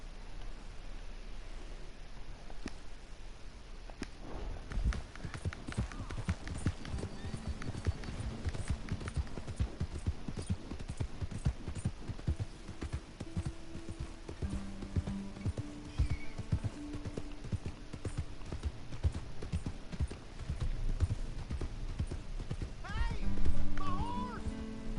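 Rhythmic clip-clop of horse hooves in the video game Red Dead Redemption 2 runs throughout, with occasional whinnies, while someone talks over it; a brief louder burst near the end.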